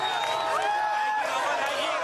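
A crowd of opposition demonstrators at a street protest in 2009, a dense steady roar of many voices with rising shouts and whoops, continuous and moderately loud throughout.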